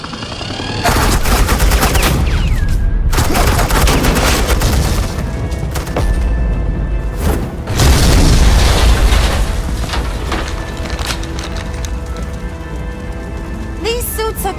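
Gunfire and explosions in Batman: The Enemy Within video game, with loud bursts of rapid shots and heavy booms crowding each other, while voices speak over parts of the barrage.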